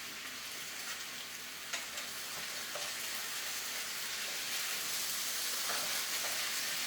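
Potatoes fry in a pan with a soft, continuous sizzle as they are stirred and scraped, the sound faint and even with occasional scrapes and no voices.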